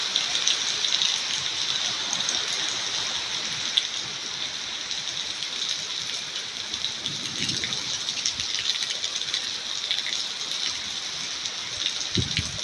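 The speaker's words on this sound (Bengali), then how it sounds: "আল্লাহ তাআলার রহমতের বৃষ্টি দিচ্ছেন" Steady rain falls after a light hailstorm, a loud, even wash of drops on surfaces with occasional splashes and rattles throughout, no voices.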